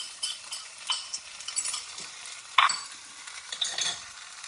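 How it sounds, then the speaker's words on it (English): Beaten egg mixture scrambling in the middle of a hot frying pan, a soft crackling sizzle with scraping stirs and one sharp utensil clink, close and alone without talk. "throw that egg mixture in the middle so it can cook up. Just scramble it in the middle there"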